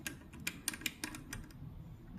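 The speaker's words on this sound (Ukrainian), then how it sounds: "прижимаємо пальчиком до такого клацання" A bobbin case snaps into place under the needle plate of a universal household sewing machine, a few sharp, quiet clicks and taps spaced through a short stretch with no talk.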